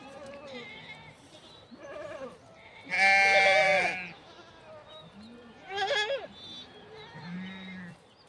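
Sheep of a Himalayan Gaddi shepherd's flock bleat several times at varied distances, one loud nearby bleat standing out, amid soft outdoor background noise.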